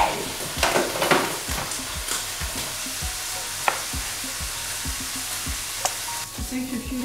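Lots of garlic frying in a pan, with a steady close sizzle and repeated sharp clicks of a utensil stirring and scraping the pan, no voices.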